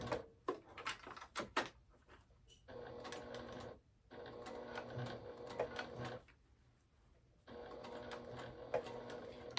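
A sewing machine stitches slowly over a D-ring connector on a Penny Clutch bag, running in whirring bursts broken by pauses and clicks, fairly quiet and close.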